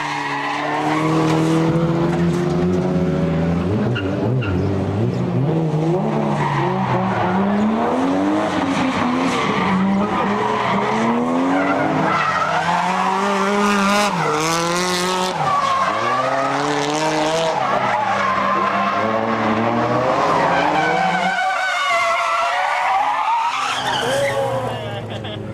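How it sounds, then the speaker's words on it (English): A twin-turbo Toyota Supra drifts, tires squealing in long wavering screeches over a loud revving engine that rises and falls continuously, while a narrator talks over the action. "The twin-turbo version of the Supra is also a popular choice for drifting."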